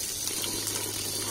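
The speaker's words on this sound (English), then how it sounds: "Gonna fill it with water." Water gushes steadily into a frog pond, a short continuous hiss with a low hum beneath, close and uninterrupted.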